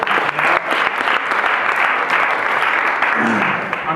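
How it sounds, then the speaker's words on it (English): A crowd claps loudly and steadily in dense applause for a comedian at a roast, sustained throughout with cheers mixed in. "Give a round of applause for him."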